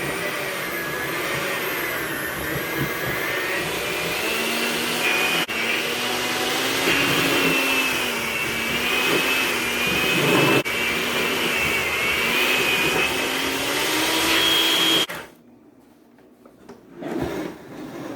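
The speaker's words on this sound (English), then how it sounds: "your batter's just sticking to this and making your mixer work harder" An electric stand mixer whirs loudly and steadily through thick gluten-free sugar cookie batter, its motor pitch wavering under the strain, then it cuts off abruptly near the end, leaving a few quiet clinks.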